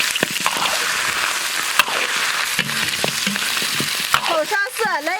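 Beef oxtail hits caramelized sugar and hot oil in a wok, giving a loud, continuous sizzle with scattered clicks and scrapes of stirring, and a whistling tone rising near the end.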